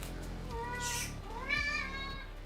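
A pet cat gives two short, close meows while being patted, separated by a brief pause, with a quiet room in the background.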